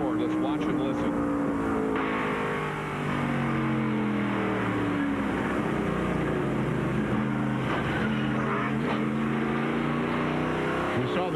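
1998 NASCAR Busch Series race car at Nazareth heard from on board, a loud, continuous engine roar with rising and falling revs through shifts and corners, close and steady throughout.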